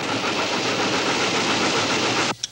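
A train thunders past at night, a loud dense steady rush and rumble that cuts off abruptly, leaving a faint clack.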